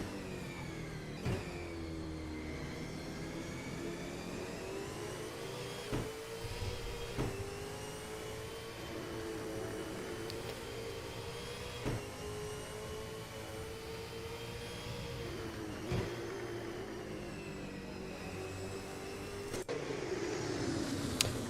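V8 Supercars racing cars in a sim racing game at the Darwin round: a steady, continuous engine drone with shifting pitch and periodic gear-change blips, sustained throughout without talk.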